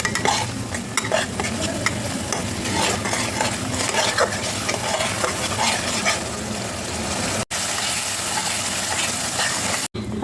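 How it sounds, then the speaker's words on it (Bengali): Spice masala being sautéed with cashew paste in hot oil, a dense continuous sizzle with steady stirring and scraping for the doi katla, loud and close, no talk. "কাজু বাটা দিয়ে আমি খানিকক্ষণ এটাকে একটুখানি কষিয়ে নেবো"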